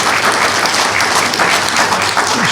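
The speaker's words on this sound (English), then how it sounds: "That deserves a round of applause." Loud, close applause from an audience after Tanya's presentation, a dense continuous wash of clapping with no talking over it.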